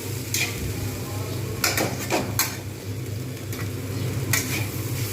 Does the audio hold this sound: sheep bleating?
no